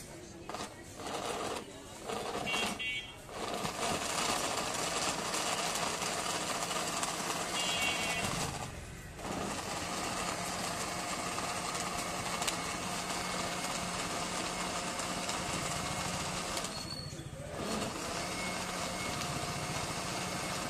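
A blender runs, mixing wood apple juice with sugar, a steady whirring drone held for the whole stretch with a few brief dips, moderately loud and close.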